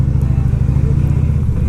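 A motorcycle engine runs close by in a deep, loud, steady throbbing rumble with a regular low pulse, heard briefly on its own.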